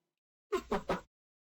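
A cat chirp sample pushed through Le Phonk distortion, three quick crunchy bursts in a tight run, loud and alone against silence.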